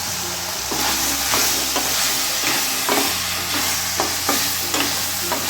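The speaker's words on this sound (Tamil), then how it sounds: "கொஞ்சம் வதக்கி வச்சுருங்க" Beans, peas and cauliflower sauté for veg kurma with a loud, constant sizzle in a pan. Regular scraping stirs punctuate it about once a second, and a low hum runs underneath.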